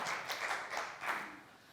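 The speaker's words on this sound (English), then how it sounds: "Maybe a clap" A few scattered claps from a small conference audience, sparse and irregular, fairly faint, over a couple of seconds.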